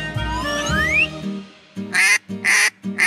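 A synthetic chime glides upward, then a duck quacks three times in quick, nasal bursts, loud and close.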